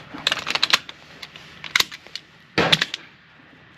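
An MWS rifle with a failure-to-feed malfunction has its chamber cleared by hand, giving bursts of sharp metallic clicks and clacks as the action is worked, with two louder clusters standing out, close up and without speech.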